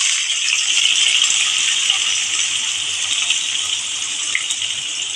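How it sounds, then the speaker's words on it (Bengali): Sliced onions dropped into hot oil for Bengali beresta give a loud, steady, close sizzle that hisses without a break for several seconds, with no talking. "আমার তেল গরম হয়ে গেছে আমি এক করে পেঁয়াজগুলো দিয়ে দিচ্ছি"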